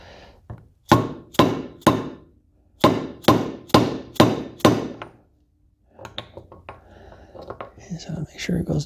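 Hammer tapping a fat socket to press a linkage bearing into a dirt bike or ATV swingarm linkage, in two bursts of about five sharp metallic taps each, close and loud, followed by quieter workshop clatter.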